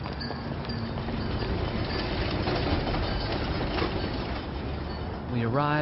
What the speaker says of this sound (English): The next morning we caught a tram all the way into the city.